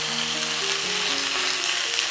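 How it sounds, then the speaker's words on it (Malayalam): Dense, even sizzling of curry leaves dropped into hot coconut oil with spluttered mustard seeds, a loud close frying hiss that holds steadily for about two seconds with no talk. "കടുക് പൊട്ടിക്കഴിയുമ്പോൾ അതിലേക്ക് കറിവേപ്പില ആഡ് ചെയ്യാം"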